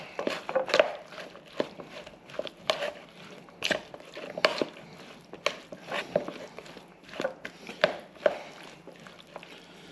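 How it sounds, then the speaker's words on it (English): Greek salad ingredients dressed with olive oil are tossed together in a bowl, giving soft irregular wet clicks and taps of utensils over a quiet background. "Now, mix all that together."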